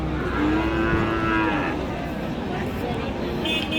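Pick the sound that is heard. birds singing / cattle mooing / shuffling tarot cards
cattle mooing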